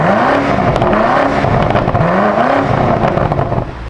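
Loud, close engine of a 2024 BMW XM Label Red hybrid, its turbo breathing audible, with a rising and falling rev pattern repeating several times before settling near the end.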